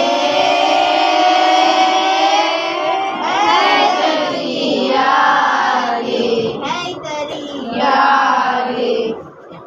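A crowd at a Muharram religious gathering chants slogans together, loud massed voices rising in repeated surges of shouting, with a sustained vocal swell between calls.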